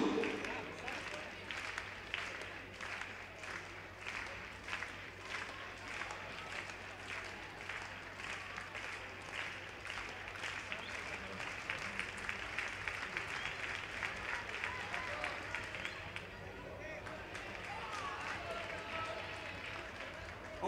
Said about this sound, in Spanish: Un fortísimo aplauso para Jean Mario Coutu